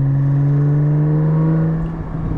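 Porsche 718 GT4 fitted with a Soul Performance rear exhaust section, heard from inside at steady cruise: a loud, deep, constant low drone that sags slightly near the end.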